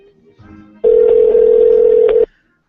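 A telephone call being placed: a few faint tones, then a single loud, steady dial or ring tone lasting over a second before cutting off, close and clear.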